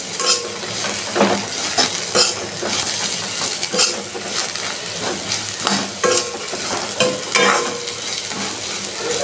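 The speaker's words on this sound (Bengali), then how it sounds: "নিম পাতাটা এখন সুন্দর ভাজা হয়ে গেছে" Neem leaves frying crisp in a pan, loud crackling sizzle with frequent scraping and clattering of a utensil stirring against metal, busy and close with no talk.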